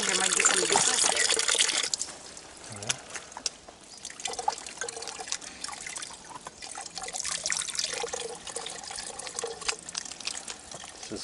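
Water gushing from a tap while water bottles are filled along the Camino de Santiago, a loud rushing flow that drops to a lighter trickle and splashes, then swells again, with outdoor background noise.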